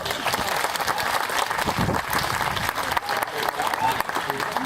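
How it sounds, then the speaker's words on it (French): Audience at a sea lion show in Peaugres clapping loudly and steadily, a dense burst of applause with some crowd voices mixed in. "vous pouvez l'applaudir très fort"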